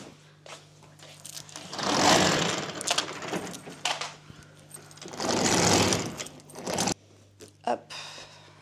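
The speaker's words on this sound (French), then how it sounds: "J'ouvre les volets." Window shutters are opened indoors, giving two long, loud rattling rolls separated by a short pause, with a low background hum and a few knocks afterward.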